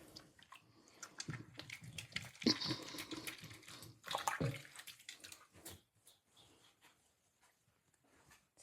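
Water splashing and trickling while fish are rinsed and rubbed clean by hand, with brief louder gushes and rubbing squishes before quieting toward the end.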